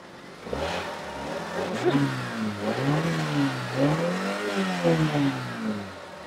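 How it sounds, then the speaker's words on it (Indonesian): A 1990 Toyota Corona with its original factory Twin Cam engine revs close by, the pitch rising and falling in several smooth swells over a steady, even running note. "Mesin masih halus ya"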